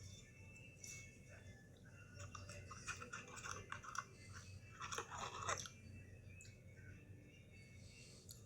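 Crunchy bites and chewing of a Burger King fried pickle ranch Whopper, close and quiet, with irregular crunching and mouth sounds across several seconds, no talking.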